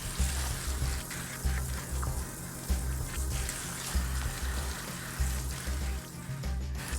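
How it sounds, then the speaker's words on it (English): Running water rinses dye out of rainbow-coloured hair, a steady close splashing and trickling with a soft rhythmic low thumping underneath, no voices. "So I'm just going to be rinsing bit by bit like that."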